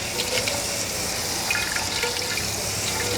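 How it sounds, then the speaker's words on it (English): Cold tap water runs steadily over Chinese egg noodles in a kitchen sink, a continuous hissing splash with faint drips, close and alone. "you gotta rinse it off with some cool water so it stops cooking"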